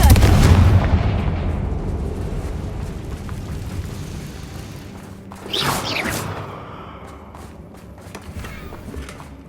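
A Confringo fire spell going off in Hogwarts Legacy, a loud booming blast that rolls off into a long decay, then a second, smaller whooshing burst midway through.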